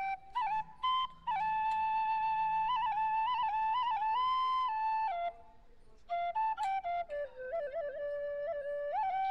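A pressure cooker whistles while black chickpeas cook for kala chana masala: one steady, loud, high tonal whistle that holds for several seconds, wavers in pitch, dips briefly and then rises again, with no talking.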